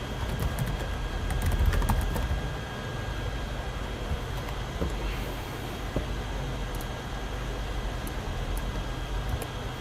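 Computer keyboard typing during a Microsoft Word workshop: a quiet, continuous patter of fast keystrokes under a steady hiss of room noise, with no voices.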